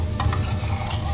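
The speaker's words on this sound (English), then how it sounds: "Just keep stirring, Lil." A dry roux for gluten-free gumbo is stirred in a pot, giving a brief, close scraping swish over a low sizzle.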